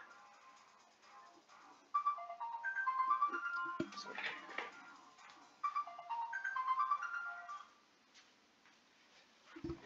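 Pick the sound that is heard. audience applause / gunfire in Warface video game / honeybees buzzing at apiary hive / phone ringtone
phone ringtone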